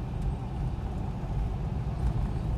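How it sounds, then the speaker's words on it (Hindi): Road traffic rolls past on a busy street with cars, buses and trucks, a steady low rumble of engines and tires heard fairly close and continuous, with no one speaking over it. "जाम तो नहीं है, ट्रैफिक तो चल रहा"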